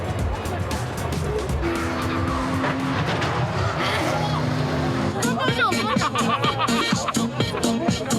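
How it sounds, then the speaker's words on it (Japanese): Cars speeding downhill through Gallery Corner at the Nürburgring, engines roaring loudly past with tire noise amid a buzzing spectator crowd, and people talking nearby throughout. "すごいスピードで下ってきてますよ、 車が。"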